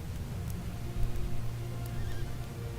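Horse neigh from the MTG Arena video game, a brief whinny standing out over a low hum of game sound, moderately loud and without talk.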